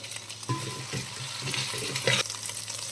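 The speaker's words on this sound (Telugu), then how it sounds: "అల్లం వెల్లుల్లి పేస్ట్ వేసుకుందాం కొంచెం కొంచెం పచ్చివాసన పోయే వరకు ఫ్రై చేసుకుందాం" Ginger garlic paste fries in a pan with a wet, bubbling sizzle, broken by a series of spoon stirs and scrapes at close range.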